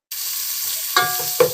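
Small onions drop into hot oil and sizzle steadily. Two sharper stirring scrapes come near the end, close by, with no voices.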